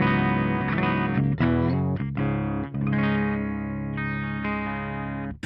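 An electric guitar plays through the clean channel of a Lichtlaerm Audio Prometheus amp in warm mode. Sustained chords and single-note phrases ring out with brief gaps between them, close and clear, with no talking.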